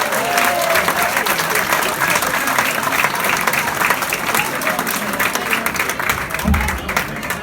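Live comedy-club audience applauding and whooping to welcome a comedian to the stage, a dense sustained wash of clapping and cheers throughout with a brief thump near the end.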